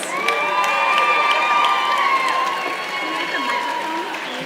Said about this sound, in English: Can we please get a round of applause for our Lifetime Achievement